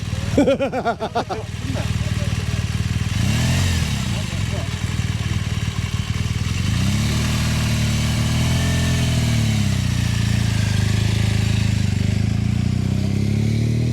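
A training motorcycle engine runs steadily throughout, with mid-pitched idling and light revving rising and falling, while people talk nearby over the engine.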